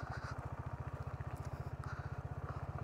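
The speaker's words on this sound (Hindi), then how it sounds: "गियर डाउन, फर्स्ट गियर आ गया है, इसको थोड़ा छोड़ने इसको धीरे धीरे दो, तो ऐसे करके आपका बाइक आगे बढ़ेगा" Motorcycle engine pulsing rapidly and evenly in first gear as the bike moves off slowly, a low, steady thumping throb with faint background noise.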